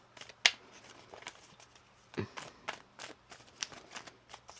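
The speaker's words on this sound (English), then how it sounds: "One more shuffle." Tarot cards are shuffled up close in a quiet room. Soft riffles and slaps come in short irregular bursts, with one sharp snap near the start.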